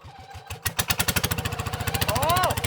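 A hand-throttled rural racing kart engine, used at a countryside F1-style kart event in Thailand, chugs in fast even pulses that rise as it is revved, close and loud, with people talking over it.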